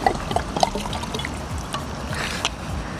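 Water trickles and pours into a shisha base outdoors, a continuous splashing flow with a few sharper drips near the start, close and moderately loud.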